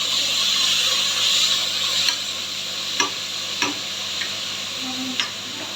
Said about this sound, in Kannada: ಸೊ ಈಗ ಆನಿಯನ್ನು ಮತ್ತು ಮೆಂತ್ಯ ಸೊಪ್ಪೆಲ್ಲ ಸ್ವಲ್ಪ ಡೀಪ್ ಫ್ರೈ ಆಗಬೇಕು,